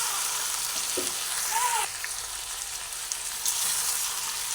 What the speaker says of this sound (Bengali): আরও কিছুক্ষণ কষাবো আরও দু তিন মিনিট মতো কষিয়ে নিয়ে